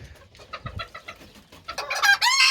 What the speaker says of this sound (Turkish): Evet öncelikle güzel tavuğumu yakaladım.